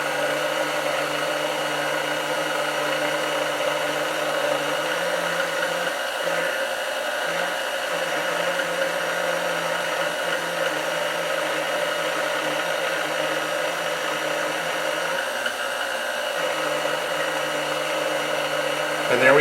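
A fresh pasta machine running with a steady loud motor whine that holds evenly throughout, no clear voices over it.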